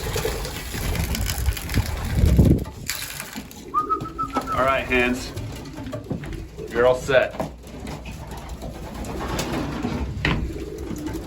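Racing pigeons coo softly in bursts close by in a breeding loft while a person talks briefly over a shuffling, scraping background.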